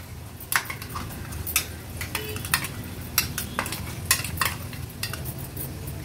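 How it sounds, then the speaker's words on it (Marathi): Ground masala paste cooking in hot oil on a low flame for an Agri Koli crab curry, a steady soft sizzle broken by repeated sharp scrapes and taps of a spoon stirring against the pan. "आता व्यवस्थित आपण हे वाटण तेलात शिजवून घेऊया"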